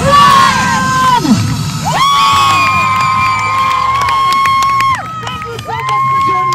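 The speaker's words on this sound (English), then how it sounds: "Clap in those hands, come on." A crowd cheers and whoops loudly and steadily at a dog show at the Red River Exhibition, with bright whistling tones cutting through as a dog makes a daredevil jump.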